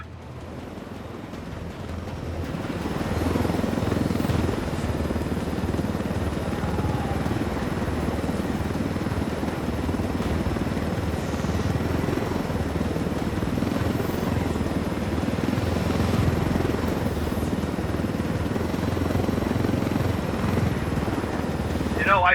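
A helicopter in the Ghost Recon Wildlands video game keeps up a loud, continuous rotor and engine roar that swells in over the first seconds and then holds steady, with voices talking over it.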